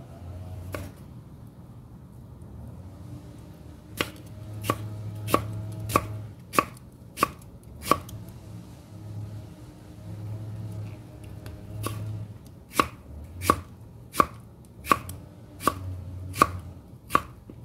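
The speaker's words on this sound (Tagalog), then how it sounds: "ganyan lang ang paggayat ko sa kanya" A knife chops radish on a board in sharp, sharp-edged knocks, a few widely spaced at first and then a steady, quickening series of crisp close cuts over a low background hum, for turnip cake.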